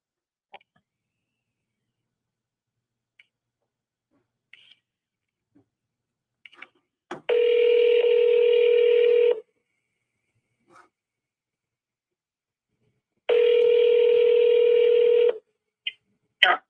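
Touch-tone keypad beeps while dialing a cold call, then two long, loud electronic phone rings separated by silence, with scattered small clicks between.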